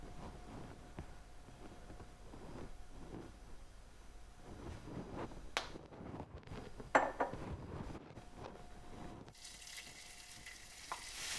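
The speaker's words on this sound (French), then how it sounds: "on commence par faire dorer les oignons avec un filet d'huile d'olive" Onions frying in a drizzle of olive oil in a pan, a quiet, continuous sizzle broken by stirring and scraping and a few metallic clinks of utensils against the pan.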